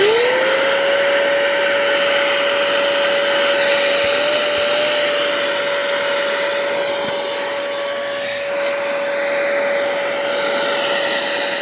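An ash vacuum runs steadily with its hose hooked to the exhaust port to blow air, a loud, constant whining motor drone with a rising tone at startup, alone with no talk.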